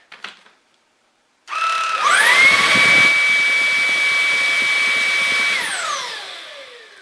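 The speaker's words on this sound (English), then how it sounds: "So you can hear it is not quiet." A Comfyer Petrel cordless stick vacuum with brushless motor spins up at max speed to a loud, high-pitched steady whine that holds for several seconds, then winds down as it switches off.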